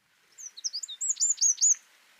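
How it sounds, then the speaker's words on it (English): Birds call above the River Coquet in a remote rural valley: a quick series of thin chirps and tweets, fairly near, with nothing else heard. "they're watching some birds above the"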